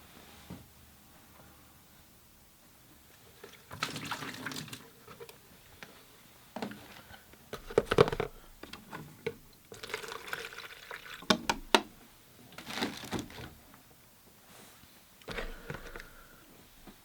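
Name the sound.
changing the water for watercolor painting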